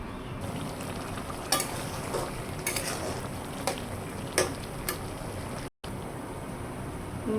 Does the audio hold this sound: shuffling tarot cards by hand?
no